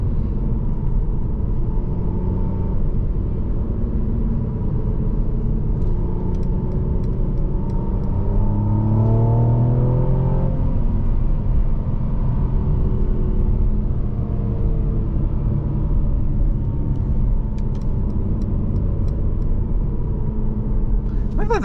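A 2018 Mercedes-Benz C43 AMG heard from inside the cabin, its engine rumbling steadily and then rising in pitch through a few gear changes midway, with someone talking over the drone.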